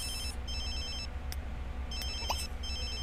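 A telephone rings in repeated electronic trilling bursts, a couple of short ring cycles with gaps between, fairly quiet over a low background hum, no talking.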